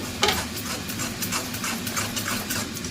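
Bitter gourd is stir-fried in a pan, giving a steady close sizzle broken by repeated soft scraping strokes of a spatula, with no talking.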